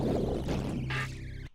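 A sung vocal line drenched in heavy, exaggerated vibrato wavers in pitch over a dense, bass-heavy electronic mix, the warble briefly standing out before everything cuts off abruptly.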